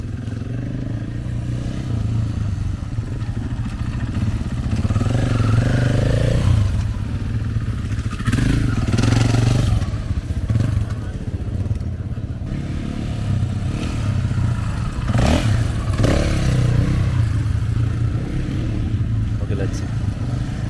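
A KTM 450 EXC dirt bike runs at constant throttle with a loud, steady engine drone and a few swells in intensity, while someone talks over it throughout.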